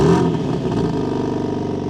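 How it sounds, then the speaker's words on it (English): A 2025 BMW M3 Competition xDrive with a quad-tip dual exhaust fires up by remote start, a loud close bark and rev at the start that settles into a steady, throbbing idle. "There's also quad tip dual exhaust system, which you can remote start."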